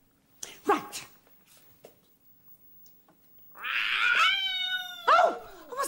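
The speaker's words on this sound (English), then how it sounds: "You trod on Fat Cat" A cat yowls after being stepped on, letting out a loud, drawn-out wailing cry followed by a sharp second squeal, after a few softer scattered sounds.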